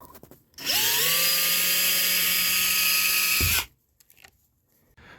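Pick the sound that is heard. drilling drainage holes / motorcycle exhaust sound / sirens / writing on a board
drilling drainage holes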